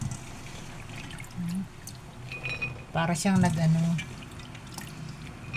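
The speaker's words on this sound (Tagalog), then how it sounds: "Babanlawan natin siya hanggang sa malinaw na yung tubig, yung clear na siya." Raw peanuts being rinsed in a basin of water, with sloshing, pouring and light clinking of the nuts against the container, short bursts of activity under a woman's speech.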